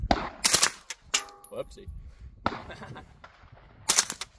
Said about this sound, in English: There's a machine gun lower, I accidentally flipped the switch.